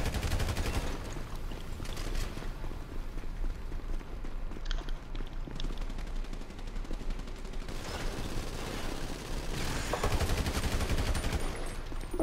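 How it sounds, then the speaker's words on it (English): Minigun fire in Grand Theft Auto V, continuous rattling bursts of rapid gunfire that swell louder toward the end over busy in-game noise. "But he was still shooting with the minigun."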